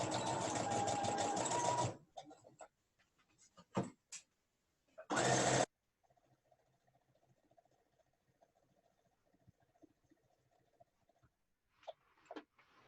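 A sewing machine stitching a Viking hood runs in short loud whirring bursts, close up, with quiet gaps, small clicks and faint handling noises between the runs.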